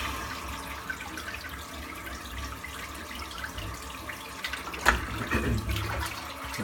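Water running from a tap into a sink while preparing to shave, a low steady rushing wash that continues throughout with a brief splashy burst near the end.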